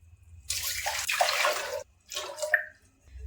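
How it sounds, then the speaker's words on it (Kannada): Two bursts of water poured from a tumbler onto rice flour in a pot while making the filling for white holige, close and fairly loud, the first pour longer than the second, with no talking. "ಅದಕ್ಕೆ 2 ಲೋಟ ನೀರು ಹಾಕೊತಾ ಇದ್ದೀನಿ"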